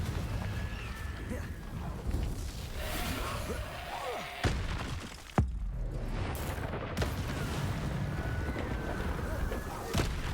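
Confringo spell blasts from Hogwarts Legacy play as loud booming thumps, with two sharp bangs standing out amid ongoing game noise and music, and a voice talking over parts of it.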